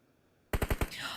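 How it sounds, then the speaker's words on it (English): Rapid burst of four or five loud explosive blasts from a mobile battle royale esports match, each sharp and booming, followed by a lingering rumbling tail with no talk over it. "Demo just went kaboom, eliminating Mabitex out of the play."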